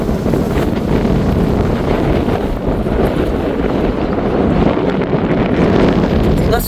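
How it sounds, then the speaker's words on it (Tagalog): Wind blows hard on a seaside walk at Mule Varde near Porsgrunn, Norway, making a loud, constant buffeting rumble over the microphone with no voices. "Mahangin."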